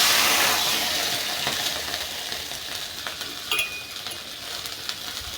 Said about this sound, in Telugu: మనం వాష్ చేసి పెట్టుకున్న చింత చిగురును నూనెలో వేసి వేయించుకోవాలండి